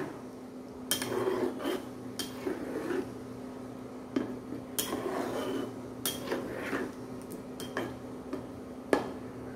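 A cooking pot of Afghani chicken biryani on low flame gets covered with its lid, giving a few sharp metallic clinks and taps scattered across several seconds over a faint kitchen hum.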